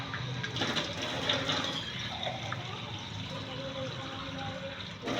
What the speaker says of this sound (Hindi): हम इसमें 4 गिलास पानी के ऐड कर देंगे यखनी बनाने के लिए।